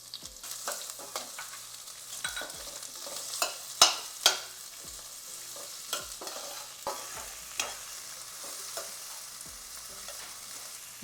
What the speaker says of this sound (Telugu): ఇలా వెల్లుల్లి వేగాక ఉల్లిపాయ, పచ్చిమిర్చి వేసుకుంటున్నాను.